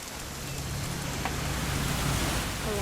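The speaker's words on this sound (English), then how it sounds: "It's gonna rain the whole weekend, isn't it?" Steady rain falling in the video game What Remains of Edith Finch, a continuous even hiss with a faint low hum beneath and no voices.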